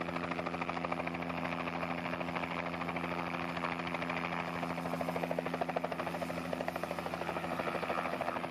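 A helicopter ferrying people across Turnback Canyon on the Alsek River, its rotor thudding in a fast, steady rhythm over a droning engine whine, sustained and moderately loud the whole time.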